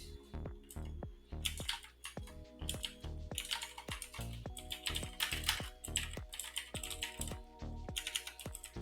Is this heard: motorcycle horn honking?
no